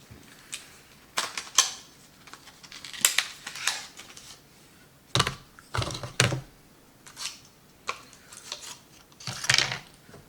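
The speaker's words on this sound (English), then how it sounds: "Let me unbox it." A T-Force 2.5-inch SSD is unboxed close by, with irregular bursts of cardboard scraping, plastic crinkling and tapping, and quiet pauses between handling sounds.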